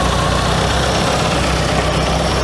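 A classic Mini's engine idles hot, a close, loud, steady low rumble with constant vibration and no voices over it.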